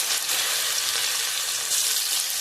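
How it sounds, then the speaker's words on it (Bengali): Chicken pieces frying in hot oil in an iron kadai, a dense continuous sizzle, close and loud, holding steady throughout without talking. "এবার চিকেনগুলো ভেজে নেবো। লোহার কড়াতে করছি"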